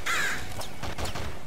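Crows caw in the video game Nuclear Throne, a couple of harsh, close calls at the start that give way to choppy game effects and rapid fire-like bursts.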